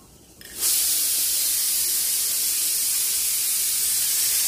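A pressure cooker boiling sweet potatoes lets off its whistle, which bursts in abruptly after a quiet moment and turns into a loud, continuous steamy hiss that holds steady to the end.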